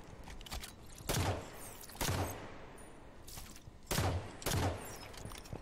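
Gunfire in Halo 5 rips through a cage barrier in four rapid bursts, each a loud, crackling volley separated by short pauses.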